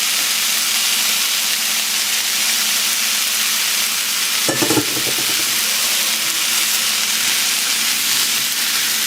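Food sizzles steadily in a Kuhn Rikon frying pan with kale and other items cooking, a continuous hiss with a brief stir or clatter near the middle.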